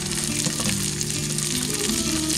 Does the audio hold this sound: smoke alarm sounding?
no